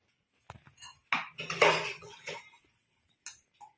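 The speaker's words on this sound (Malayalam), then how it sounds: "രാവിലെ തന്നെ കുറേ പാത്രമുണ്ട് കഴുകാനായിട്ട്" Dishes, pots and cutlery clatter and clink up close during morning washing, with a burst of busy clanking in the middle and a few scattered knocks after quiet gaps.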